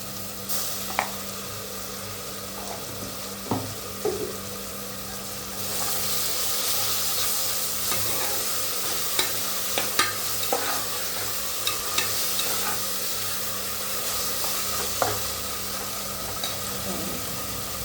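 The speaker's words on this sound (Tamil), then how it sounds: "இந்த ஸ்டேஜில் ஒரு 1/2 ஸ்பூன் இஞ்சி பூண்டு பேஸ்ட் போடுறேன்." Ginger garlic paste sizzles and hisses in hot oil in a pan for tomato rice, a steady close frying crackle with repeated light scraping taps of a spoon stirring.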